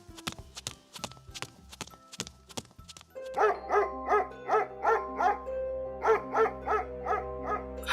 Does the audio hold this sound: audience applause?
no